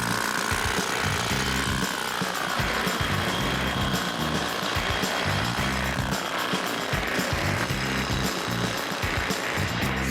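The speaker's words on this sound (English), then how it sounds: "how to operate the drill" A pneumatic rock drill hammers continuously and loudly at close range while drilling holes for a building implosion, a harsh rapid rattling that never lets up.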